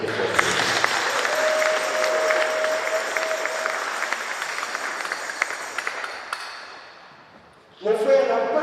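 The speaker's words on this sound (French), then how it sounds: "Acclame très fort." A church congregation at a baptism and first communion service applauds loudly and steadily for several seconds with scattered cheers, then the clapping fades out and a voice speaks over a microphone.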